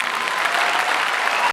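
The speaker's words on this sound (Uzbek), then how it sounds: "shu bechoraga qarsak chalaylik deb qo'l uchida nomiga bir qarsak chalyapsizlar-da" An audience applauding, giving a dense, steady burst of clapping from many hands at fairly close range that stops abruptly.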